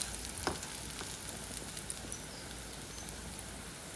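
Potato fry cooking in a pan gives a soft, steady sizzle throughout, with faint crackles and pops scattered over the quiet hiss and no voices.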